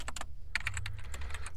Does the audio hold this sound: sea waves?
no